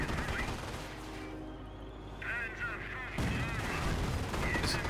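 Mortar and artillery fire in the World War II strategy game Company of Heroes, with booming impacts and scattered gunfire that keep up through the whole stretch under a constant wash of battle noise.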